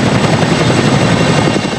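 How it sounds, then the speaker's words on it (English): A firefighting helicopter works the Crozier wildfire, its rotor a loud, close, steady chopping throb that fills the whole moment without talk. "first responders are working relentlessly to put out the wildfire using firefighting helicopters like the"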